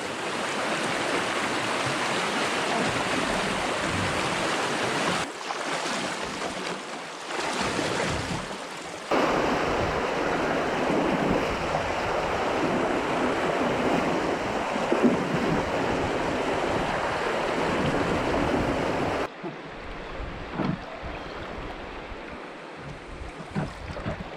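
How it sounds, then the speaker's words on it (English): Canoe paddling through a stretch of river rapids, with steady loud rushing and churning water throughout, a few shifts in intensity as the boat moves, and occasional knocks and wind buffeting at the microphone. "I'm almost done this stretch of rapids"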